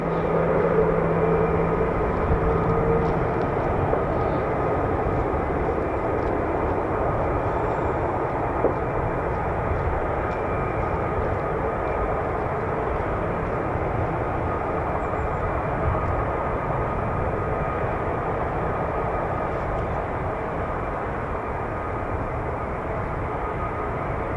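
Aircraft engines drone and roar continuously at an airfield, a loud, steady broadband wash of engine noise holding without a break throughout.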